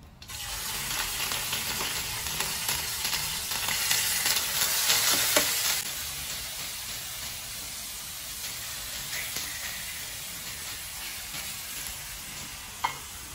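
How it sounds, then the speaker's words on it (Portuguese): Pork loin sears in olive oil in a frying pan over a wood-fired stove, giving a steady close sizzle and hiss that swells midway and then settles, broken by a few light clinks near the end. "Nosso lombinho já foi selado na frigideira"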